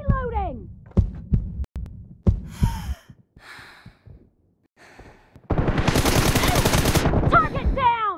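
An M4 rifle fires in the mobile game BGMI, a loud sustained automatic burst following scattered single shots and thuds. Voices and other game sounds are heard around the shooting.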